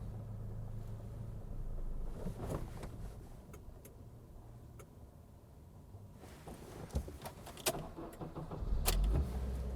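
A 10-year-old Honda car with a manual transmission rumbles at idle as the clutch is released, with low engine drone, a few clicks and knocks, and a louder jolt near the end.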